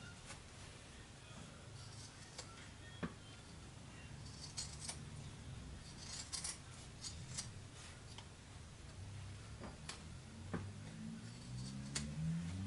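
Scissors trim quilted pouch fabric and binding tape with a series of quiet, crisp snips and small ticks scattered over a soft background hum, faint and close, with no speech.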